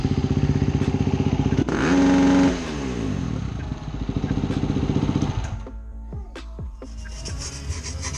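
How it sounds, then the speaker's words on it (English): A Husqvarna FE350 motorcycle with an emission delete kit fitted starts up and is ripped once to wide open throttle, a loud close roar that climbs and falls before dropping back to a rough idle. "As soon as you crank it, wide open throttle, one good rip, turn it back off"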